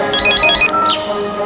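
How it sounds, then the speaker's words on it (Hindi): A phone ringtone chirps in a quick repeating electronic pattern, loud and close over a busy background, then breaks off with a short rising sweep. "देखो फोन आ गया।"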